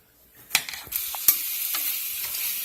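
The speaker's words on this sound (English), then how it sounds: "I'm going to throw it in the pan for a couple of minutes with my coconut oil and a little bit of flavor" Food sizzles and fries in a pan with coconut oil while being stirred, with a steady close crackle broken by several scraping clatters of a utensil against the pan.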